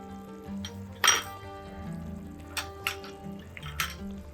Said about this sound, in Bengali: দিয়ে ভালো করে এটাকে নাড়বো।